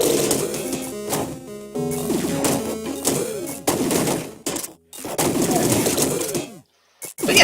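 Burst gunfire in the video game Downwell, rapid clusters of small electronic shots repeating in quick volleys with brief gaps between them.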